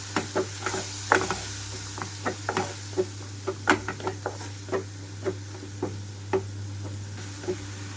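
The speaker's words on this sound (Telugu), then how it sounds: "టమాటో పచ్చివాసన పోయే వరకు వేయించుకోవాలి" Tomatoes frying in a pan over medium flame for an Andhra egg gravy curry: a soft steady sizzle with regular light clicks and taps from stirring, close, beneath a constant low hum.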